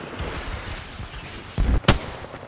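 Two short, loud bursts of gunfire in Apex Legends, close and punchy, heard over a low, rumbling game background.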